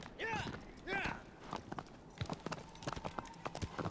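Horse hooves clip-clopping in the video game Shadow of the Colossus, a quick steady beat under excited talk and a couple of whooping cries.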